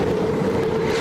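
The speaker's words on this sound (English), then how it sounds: "What happens when you drop 2 jet engines into one crazy catamaran?" A catamaran powered by two jet engines roars past in a steady, loud rush, with wind buffeting the microphone throughout.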